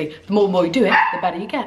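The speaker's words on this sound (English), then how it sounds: "Sorry about my dog." A new puppy barks and yips in the background while a person keeps talking over it, the dog sounds short and intermittent under the steady voice.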